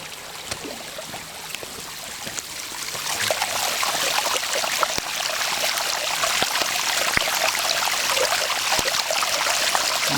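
Rainwater running in little spouts like a small river, a continuous bright rushing and trickling that grows a little louder midway, with scattered small splashes and no voices.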